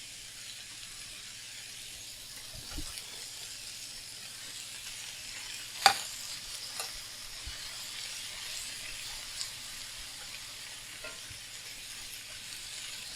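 Tofu pieces stirred and shallow-fried with vegetables in a pan make a faint, steady sizzle, with a few soft scraping stirs and one sharp clink against the pan.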